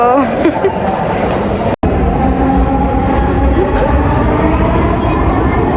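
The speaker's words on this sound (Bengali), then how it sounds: "আজকে আমরা ফার্স্ট টাইম মেট্রোতে উঠবো।" Steady rumbling of a Dhaka metro train in motion toward Motijheel, with a constant low drone and some voices murmuring in the background.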